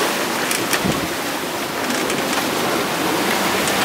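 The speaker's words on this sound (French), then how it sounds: "Alors que c'est du petit clapot qu'on a." Continuous washing and splashing of small choppy waves around a sailboat, steady and close, with wind noise blended in and no voices.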